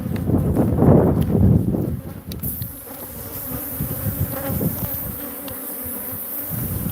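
A dense, loud buzzing of many Africanized (killer) honey bees swarming close by, with a heavier low rumble at the start before settling into a steady humming drone.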